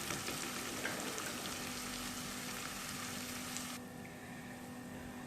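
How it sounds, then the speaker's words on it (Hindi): Garlic and ginger frying in hot oil for a korma biryani: a steady, close, bright sizzle that continues throughout and eases slightly toward the end, with no talking. "अब ये लहसुन अदरक ऐड करने के बाद मैं इसको इतना कुक करूँगी कि इसका थोड़ा सा कलर चेंज हो जाए"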